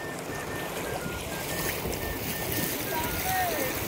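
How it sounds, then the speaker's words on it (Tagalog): Strong flood water current rushes in a constant broadband roar that stays loud and close, with a faint whistle-like sound and voices in the background. "napakalakas ng agos."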